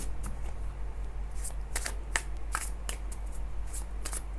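Tarot cards being shuffled at close range, a steady run of crisp riffling flicks and snaps repeating irregularly over a low constant hum, with no voices.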